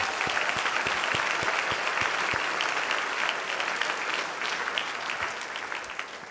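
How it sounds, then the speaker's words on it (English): An audience at a Rochester Hills inauguration ceremony applauds the team members, dense continuous clapping from many hands that stays loud and slowly tapers toward the end. "So one more round of applause for the team members in Rochester Hills"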